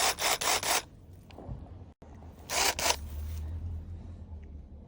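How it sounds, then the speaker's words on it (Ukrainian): Short bursts of a cordless mini chainsaw (CGSLI20581) biting through wood, a couple of quick rasping passes, a pause, then another cut with a motor humming after. "Працюю далі, тестую пилку"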